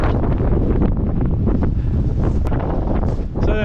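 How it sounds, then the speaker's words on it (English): Strong, steady wind roars and buffets the microphone throughout on an exposed mountain walk around the base of Snowdon, loud and continuous with no clear talk. "wind's actually not that bad"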